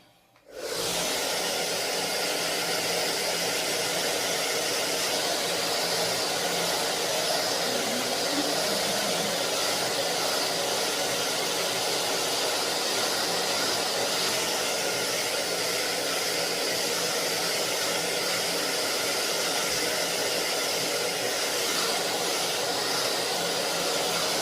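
A hair dryer switches on and blows continuously over a wet watercolor beach painting, a loud, steady, close whooshing roar that holds unchanged for over twenty seconds with no voices.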